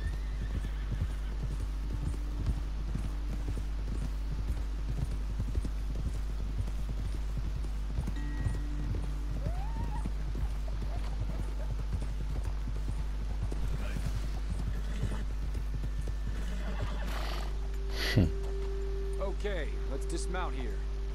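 Horses in the video game Red Dead Redemption 2 trot with a steady, close clip-clop of hooves, joined by a brief whinny, while characters talk over the ride.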